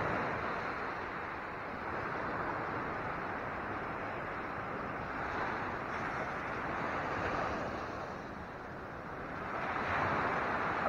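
Big waves roll and break along the shore at El Payo beach in Lian, Batangas, a continuous broad roar of surf mixed with wind buffeting the microphone, swelling and easing over time.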